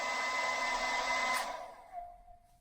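A hair dryer rated around 1,400 watts, powered from van batteries through an inverter, blows with a steady whirring hiss, then switches off and winds down, leaving a faint hum.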